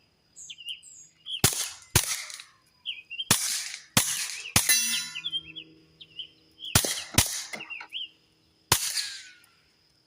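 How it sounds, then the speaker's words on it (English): A Kel-Tec P17 pistol fires subsonic rounds into dirt outdoors, with about nine sharp, loud cracks in uneven groups. Birds chirp throughout, behind and between the shots. "The impact of the bullet hitting the dirt."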